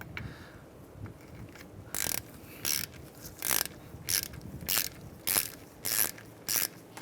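Ratchet wrench snugging the bottom caliper bolt on a 2007-2015 Mazda CX-9 during a suspension knuckle swap, bursts of rapid ratcheting clicks in short repeated strokes, close and crisp.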